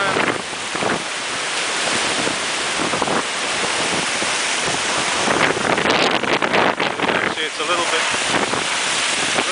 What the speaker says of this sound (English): This wind hasn't let up. We're still in 100k wind.